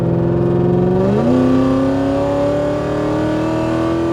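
A BMW 7 Series engine revs up sharply, its pitch climbing, then holds a steady high drone, loud and close with no talking.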